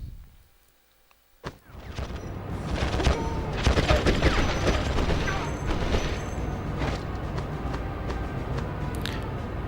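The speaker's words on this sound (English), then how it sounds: "So you need to fire at the tank quite quickly." Gunfire and tank fire in the PS2 war game Conflict Desert Storm: after a short quiet start and a thud, a sustained burst of rapid shots and booming blasts rolls on steadily, loud and dense.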